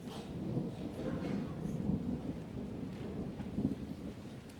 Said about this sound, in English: With a thunderstorm raging overhead